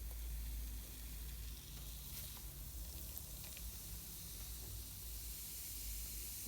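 Baking soda fizzes steadily as vinegar goes in for chebakia dough, a faint even hiss that lasts the whole stretch with no talking over it.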